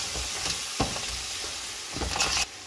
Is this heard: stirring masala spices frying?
yes